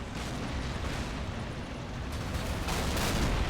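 Tank cannon fire and artillery in a WWII battle between Shermans and Tigers in a realism-modded video game, a dense continuous barrage of booming blasts and rumbling explosions that swells louder toward the end, with no talk.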